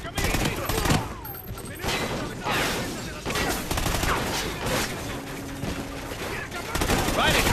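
Dense gunfire in the Call of Duty Ghosts campaign, with rapid automatic bursts and scattered shots crackling continuously over about seven seconds, loud and close, while game characters talk over the shooting.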